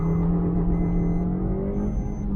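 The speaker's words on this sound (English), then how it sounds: "Revving the motor, rev still 5000 RPM." Petrol engine of a BS6 Maruti Suzuki Baleno with a manual gearbox revs steadily toward 5000 RPM, a close, loud, sustained drone that climbs slightly in pitch, with no talk.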